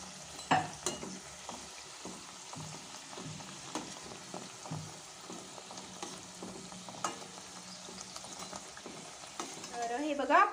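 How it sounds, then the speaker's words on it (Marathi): Puris deep-frying in oil for a vegetable thali, a soft bubbling sizzle with scattered clicks and light utensil knocks, fairly quiet and close, growing louder and busier at the very end. "तळून घेऊया."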